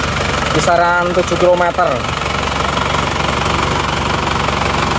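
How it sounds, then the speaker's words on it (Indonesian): An Isuzu Panther diesel engine, recently repaired after blow-by and oil spraying from the dipstick, runs with a loud steady knocking clatter throughout while someone speaks briefly over it. "Sekarang akan kita coba jalan mobil ini"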